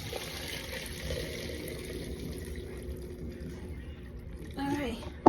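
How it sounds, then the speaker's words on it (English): Water is emptied into a soup pot during outdoor cooking, a steady low wash of pouring liquid that runs throughout at low volume and ends with a sharper splash. "I'm just gonna empty all this water in there."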